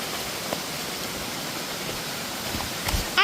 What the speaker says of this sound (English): I bring my friend to see the waterfall.